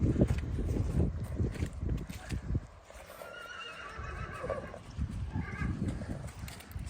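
A Brabançon draft stallion lets out a clear, quavering whinny midway, close by, amid earlier shuffling and thudding movement noises.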